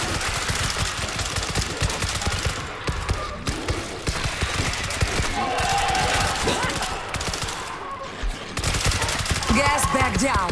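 Rapid gunfire in the shooter game World War Z during a Moscow mission, bursts of close shots cracking in quick irregular volleys, some stretches denser than others, with a voice talking over the action at times.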